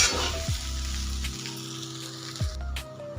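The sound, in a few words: sautéing poha on medium gas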